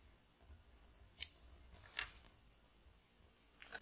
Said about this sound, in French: on tire le fil et on coupe le jaune